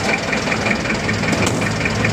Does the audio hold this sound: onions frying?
no